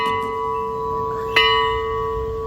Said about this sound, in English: you can even ring the bell that used to be the old alarm bell of the fort.